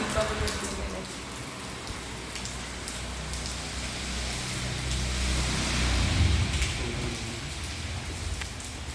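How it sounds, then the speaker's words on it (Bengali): Steady heavy rain pours outside at Chaitanya Matha in Srirangam, Trichy, a dense broadband hiss that swells slightly toward the end, with faint voices beneath it. "এখনও বাইরে খুব বৃষ্টি পড়ছে"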